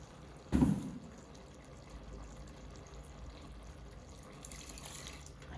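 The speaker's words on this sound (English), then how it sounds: "what we'll do now is we'll put in half a cup of chicken stock." Chicken stock is poured into curry paste in a pan, a brief splashy burst of liquid near the start followed by a soft, low, steady sizzle and bubbling that stays faint.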